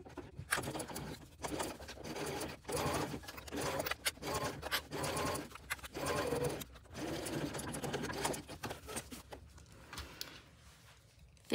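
A sewing machine sews a short-stitch seam along the bottom of a tote bag's zipper pocket, whirring in several close, quiet bursts with brief stops between them, then winding down to near silence at the end.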